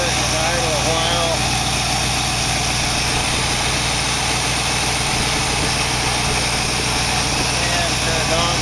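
The engine of a 1914 car idles steadily, a loud, continuous low chugging rumble with even rhythm, heard close up.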